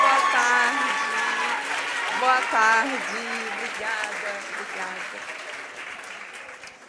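A Brazilian audience at a book event applauds an author as she comes on stage, steady clapping heard under a voice speaking over the crowd as the applause gradually fades.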